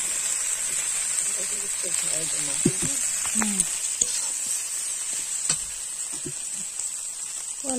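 Chopped tomatoes drop into hot oil with frying spices, setting off a steady sizzle, while a spoon stirs and scrapes the pan in short strokes and a voice talks over the cooking.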